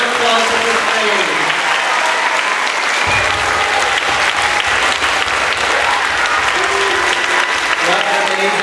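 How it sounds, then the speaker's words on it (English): A crowd applauds 5th graders at an elementary school spring concert: loud, dense clapping sustained for the whole stretch, with cheering voices mixed in. "Round of applause for 5th grade."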